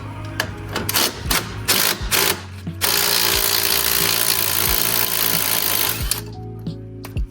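An impact gun rattles off the nuts on a Chevy Cobalt's sway bar links. It fires a few short bursts, then runs in one long continuous hammering stretch before cutting out. The sound is loud and close.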